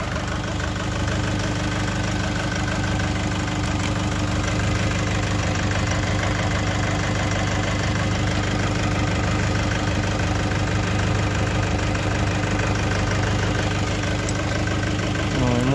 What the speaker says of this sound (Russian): Моторчик шепчет.